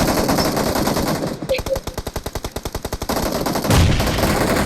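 Rapid automatic gunfire in a mobile shooter video game, a tight burst of evenly spaced loud shots lasting about two seconds, set amid other game sounds with brief talk.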